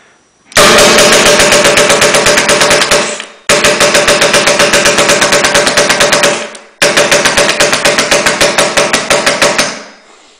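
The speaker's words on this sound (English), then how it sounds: "the gun fires on both the pull and release of the trigger" An Automag paintball marker with a Proline Autoresponse trigger frame fires three loud, rapid bursts of sharp, closely spaced shots, each burst lasting about two to three seconds with short pauses between.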